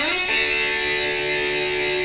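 Bright, biting electric guitar lead with a piercing EQ, sustained notes ringing steadily at close range over a dense backing mix, no voices.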